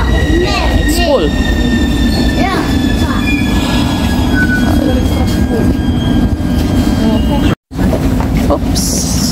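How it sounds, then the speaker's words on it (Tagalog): A metro train in Romania runs loudly at close range, wheels squealing in rising and falling tones over a steady rumble, with a brief dropout near the end and people's voices faintly mixed in. "sasakay kami sa tren"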